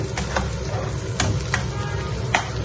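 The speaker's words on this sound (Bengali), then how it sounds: "পেঁয়াজ দিয়ে দিলাম এখন আমি মাছের তেলটা কষিয়ে দিচ্ছি" Onions and fish oil from shapla fish sizzle in a hot pan, with a steady crackling fry and a few sharp stirring scrapes at irregular moments, close and fairly loud, with no talking.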